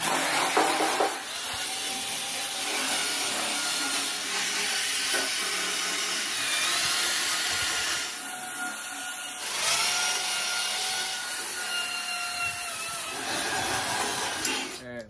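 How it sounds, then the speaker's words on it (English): A wire wheel on a grinder strips rust, paint, sealant and tar from a 1969 Mustang fender, giving a steady close grinding whir that runs throughout with brief dips. "I'm gonna start off with a wire wheel."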